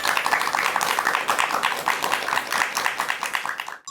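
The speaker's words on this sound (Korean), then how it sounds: "큰 박수 부탁드립니다." An audience at a lecture on laughter therapy claps to welcome the speaker, a steady patter of many hands at moderate volume that fades out near the end.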